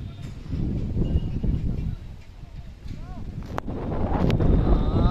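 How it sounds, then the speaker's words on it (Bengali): Strong wind gusts across an open outdoor spot at Ambika Kalna under light rain, a steady low rumbling buffet on the microphone that swells toward the end, with a few faint chirps over it. "হাওয়াটা হেভি।"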